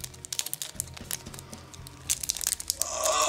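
A Dragon Ball Super tournament card booster pack being torn open, with close, irregular crinkling and ripping of foil wrapper building to a louder tear at the end.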